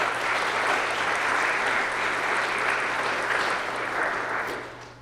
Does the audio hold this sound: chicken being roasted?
no